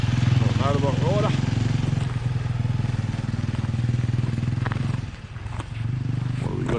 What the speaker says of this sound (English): motorbike rider.